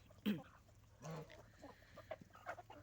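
Chickens clucking softly in short, scattered bursts, a few birds calling at moderate distance over quiet outdoor background.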